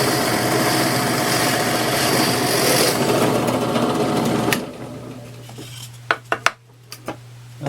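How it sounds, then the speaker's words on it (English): A power drill bores a hole through a wooden board with a steady, close whirring drone for about four and a half seconds, then stops, leaving a few sharp knocks and clatters. "just simply drill out the hole"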